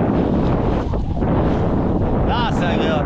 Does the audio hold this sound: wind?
yes